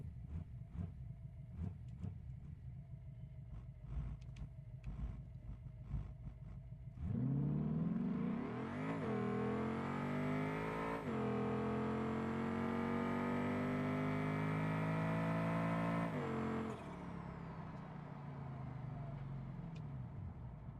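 A car engine in a racing video game surges as a nitrous boost kicks in, rising in a loud, sustained whine for about ten seconds before dropping back to a lower idle.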